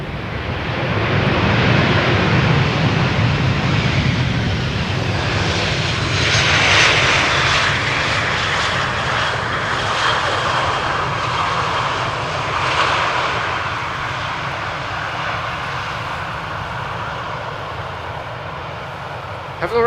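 A Vueling jet arriving from Barcelona lands on the Polderbaan at Amsterdam Schiphol, its engine roar swelling to a loud peak midway and then slowly fading.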